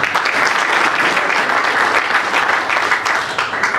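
Voters at a union congress in Kintambo break into steady, loud applause after an officer is elected by acclamation, a dense wash of many hands clapping continuously with no talking over it.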